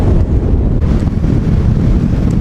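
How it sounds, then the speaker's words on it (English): Loud, steady wind buffeting the microphone with a deep rumbling roar that never lets up, no voices heard, on a hilltop walk in Bradgate Park. "it's extremely windy today."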